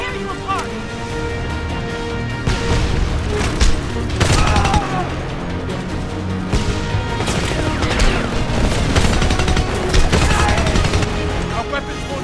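Heavy APC cannon fire in the shooter game Homefront. Loud, repeated booming blasts and bursts of gunfire pound through a dense battle din, with shouted voices mixed in.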